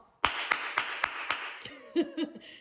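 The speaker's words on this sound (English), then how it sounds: "A round of applause to y'all" A lone person claps five slow, evenly spaced times, crisp and close, followed by a short murmured vocal sound as the clapping stops.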